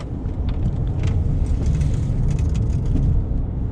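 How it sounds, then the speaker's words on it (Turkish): A bag in the back of a BMW 520d F10 rattles in scattered, light clicks while the car corners on a mountain road, under a constant low road and engine rumble. "Oğlum arkadaki çantadan geliyor o ses ya."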